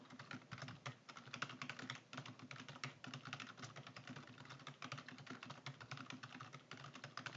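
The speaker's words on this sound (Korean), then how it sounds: "이제 입력할게요." Continuous fast typing on a computer keyboard while entering data into an Excel spreadsheet, with rapid, even key clicks at a quiet, close level and no talking.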